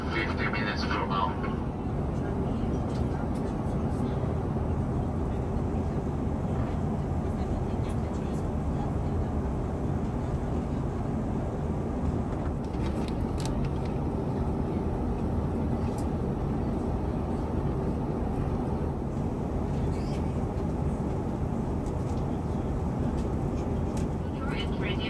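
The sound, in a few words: airplane cabin noise during descent to Doha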